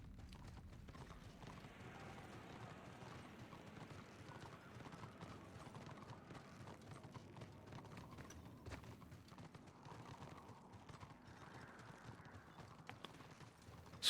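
Horse hooves clip-clop steadily through a fantasy online game battlefield, a moderately loud running rhythm under layered game noise with no voices.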